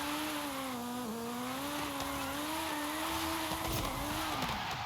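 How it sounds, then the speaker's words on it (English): A 1958 Austin Healey Sprite drifting in a racing video game, its engine holding a steady wavering drone while tires squeal continuously, loud and close with no voices. "Oh, we can drift so easily."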